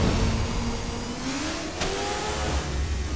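A sports bike engine revving in Dead Rising 3, with a steady loud roar whose pitch rises and shifts, over constant game background noise.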